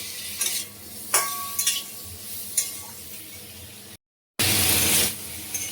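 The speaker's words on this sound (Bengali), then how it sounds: "সবজি ভাজা ভাজা হয়ে গেছে" Spinach, tomato and green chillies frying in a pan, with intermittent scraping stirs and utensil clinks over a soft sizzle, a brief gap, then a louder burst of hissing near the end.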